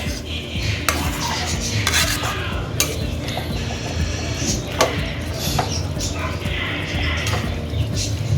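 A spoon scrapes and stirs through a thick onion chicken curry in a pan, with repeated clinks and rubbing sounds at an uneven rhythm.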